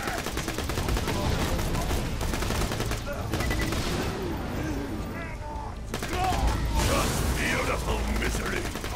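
Pistol fire in the Borderlands 2 video game: rapid runs of sharp shots crackling over game music and effects, with a brief lull before the firing picks up again, and a voice talking underneath.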